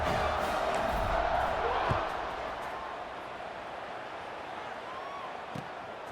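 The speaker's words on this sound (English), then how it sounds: "this crowd is buzzing after that last score." A football stadium crowd in a video game buzzes continuously after a score, a broad murmuring roar that is louder at first and eases slightly after two seconds, with a thud or two in the background.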